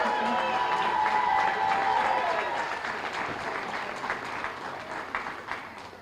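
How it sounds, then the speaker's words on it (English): An NHTI Hall of Fame ceremony crowd greets an inductee with loud, sustained applause and cheering voices that gradually ease off, with some chatter in the room. "This is quite a cheer section going on"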